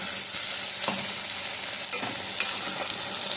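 Masala frying in a pan for Mangalore-style egg curry, a continuous sizzle broken by a few sharp scrapes of stirring, close and steady with no talking.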